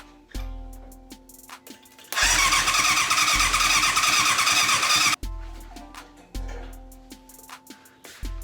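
A 1988 Yamaha FZ750 motorcycle with gas-spitting carburetors cranks in short bursts, then catches and roars loudly for about three seconds before cutting out, followed by more sputtering starter attempts.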